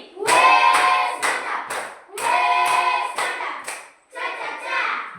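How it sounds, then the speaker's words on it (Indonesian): A class of Catholic religious education students performs a rhythmic appreciation clap, loud patterned bursts of hand claps in quick groups separated by short pauses, close and in unison, repeating three times. "Kita tepuk apresiasi."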